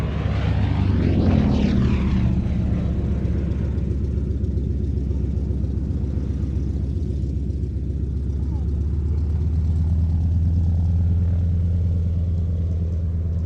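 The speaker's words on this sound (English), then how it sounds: "It's a little biplane." A little biplane flying at an air show, its propeller engine droning loudly in a steady pass that starts with a brief pitch shift and settles into a continuous rumble, with speech present throughout.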